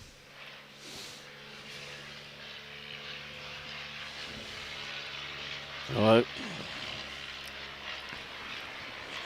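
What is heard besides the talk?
old biplane flying overhead towing a banner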